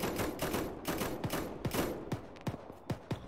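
Gunfire in the military shooter ARMA 3 with repeated sharp gunshots in an irregular volley, some near and punchy and others more distant, over a noisy battlefield background, with no talk.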